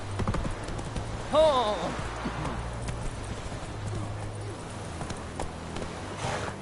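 Roach the horse trotting in The Witcher 3, with a steady clip-clop of hooves close by under a voice briefly speaking and exclaiming over it.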